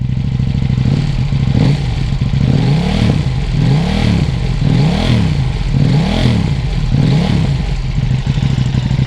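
A KTM Duke 790 motorcycle engine with a slip-on exhaust revs repeatedly in rhythmic surges, loud and close, with a throaty, popping exhaust note between blips.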